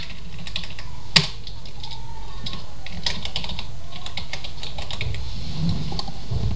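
Steady keystrokes on a computer keyboard as a media library name is typed, a close, irregular clatter of clicks with one sharper tap near the start and no speech over it.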